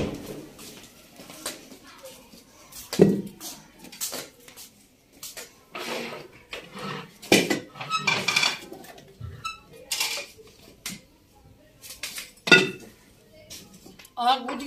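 Pots, pans and utensils clink and clatter as neighbours cook on rooftops in a Punjabi village, with scattered metallic knocks near and far under ongoing talk and children's voices.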